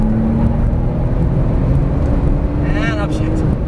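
Steady, loud engine roar from inside a Porsche 911 Turbo S under full throttle, a continuous mechanical drone filling the cabin while someone talks over it.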